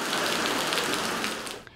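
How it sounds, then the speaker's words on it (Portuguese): Steady rain falls in the capital city, a dense close hiss of drops on surfaces that holds even, then fades slightly at the end. "As chuvas devem continuar."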